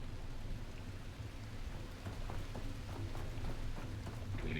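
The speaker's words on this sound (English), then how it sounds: "Oh, it's raining." Rain falls in the video game The Last Caretaker, a steady, soft broadband patter with faint low rumbling beneath, continuous and fairly quiet throughout.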